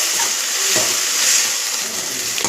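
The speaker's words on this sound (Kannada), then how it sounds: "ಶುಂಠಿ ಬೆಳ್ಳುಳ್ಳಿಯಲ್ಲಿರೋಂಥ ಹಸಿ ಸ್ಮೆಲ್ ಹೋಗೋ ತನಕ ಈ ಥರ ಫ್ರೈ ಮಾಡ್ಕೋಬೇಕು" Ginger garlic paste sizzling in hot oil with chicken liver in a pan, a steady close frying hiss throughout with faint stirring scrapes and no talking.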